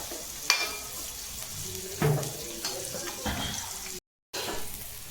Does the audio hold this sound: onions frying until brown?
yes